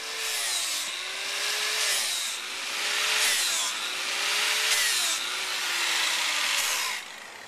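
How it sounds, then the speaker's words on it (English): A power sander works a wooden log being made into a bench, its whining motor rising and falling in repeated pushes a second or two long, steady and close up with no talk. "So now we'll just finish sanding this log, get it stained, paint these legs,"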